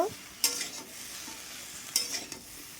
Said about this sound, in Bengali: আমি এর সাথে দিয়ে দিচ্ছি ঝিঙে ভেন্ডি আবারও একটু নেড়ে চেড়ে ভেজে নেব